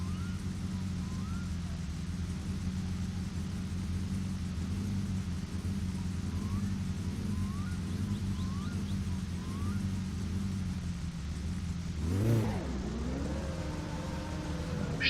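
A car engine in My Summer Car warms up at a steady, close, low idle rumble, then gives one brief rev that swells and drops back near the end.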